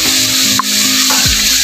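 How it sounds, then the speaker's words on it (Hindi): Onions sizzle steadily while frying in a pan, with a few scraping stirs of a spatula cutting through the constant hiss, close and loud with no talking. "यहाँ पर हम अभी अच्छी तरीके से अपनी प्याज को जो है लाल कर लेते हैं"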